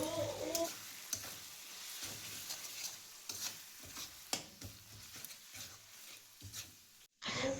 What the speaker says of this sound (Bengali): আমি যেটা আলু কুচি রেখেছিলাম ঝিরিঝিরি করে, সেটাকে প্রথমে আমি দিয়ে নেব, নেড়ে নেব তেলে, যাতে এটা সুন্দর করে ভাজা ভাজা হয়।